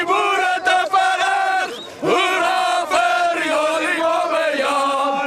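Afrikaner crowd chanting a taunting song in unison during a tense street confrontation in South Africa, loud and sustained with rhythmic sung phrases, many voices together and a brief dip before the chant swells again.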